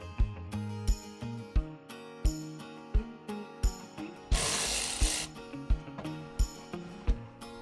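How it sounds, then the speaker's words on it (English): A socket ratchet clicks in short repeated bursts while 10mm nuts come off the front valance under the bumper of a RAM 2500 Power Wagon, each pass ending in a sharp tap, with one brief harsh rasping scrape midway. "We're going to start off by removing these 10mm nuts, which hold the valance on all the way around the bottom of the bumper."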